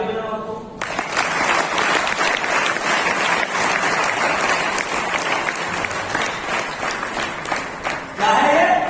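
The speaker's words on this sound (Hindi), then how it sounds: "एक बार ताली बजाओ आपको।" A seminar audience at a direct-selling success training in Nalagarh breaks into sustained, dense applause lasting several seconds, loud and close, with a trainer's voice heard briefly before and after.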